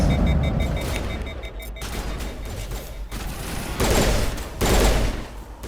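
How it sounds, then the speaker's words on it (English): Bursts of gunfire from a 3-round burst pistol in Mass Effect, rapid loud cracks in clusters over a rumbling battle backdrop, close and dense, no speech. "3-round burst pistol."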